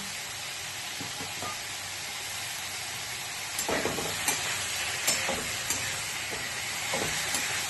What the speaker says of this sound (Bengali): চিংড়ি মাছগুলো বেশি ভাজবো না, বেশি ভাজতে নেই চিংড়ি মাছ